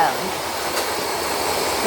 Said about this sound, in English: some they'll let me use the force dryer and they're fine with it